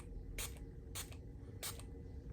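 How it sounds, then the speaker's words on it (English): Three quick, close bursts of fine mist from a Milani makeup setting spray, each a short sharp hiss, evenly spaced over a quiet background with no talking. "Now I'm gonna go in with this Milani setting spray."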